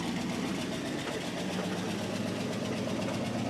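A 1974 Cadillac Calais engine idles with a rough, rumbling throb through a worn, leaky exhaust, steady and close, with no voices.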